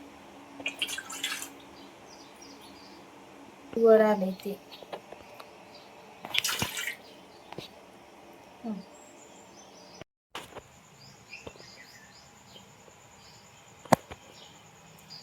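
Water dripping and trickling from squeezed wheat pulp for kurdai, soft irregular drips and a few splashy bursts while someone speaks intermittently nearby.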